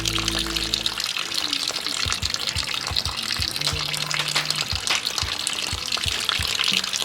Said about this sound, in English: So I have to directly wash my hands like this.